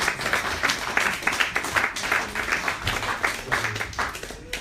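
Audience applause at a Nation of Islam UK gathering at the European Regional HQ, dense steady clapping from a crowd that carries on without a break and without any talk over it.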